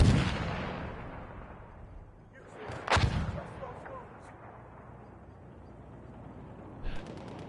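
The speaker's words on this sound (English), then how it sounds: "Firing from Duff." Gunfire and artillery-style blasts in a competitive online shooter match, with a sharp loud burst near the middle over a steady rumble of distant battle noise, and another short burst near the end.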